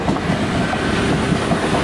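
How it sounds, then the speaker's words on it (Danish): An IC3 train runs past on the rails, its steady rumble and rhythmic clickety-clack of wheels over track joints filling the whole stretch at close range, loud and continuous with no voices. "Her har vi IC3-toget."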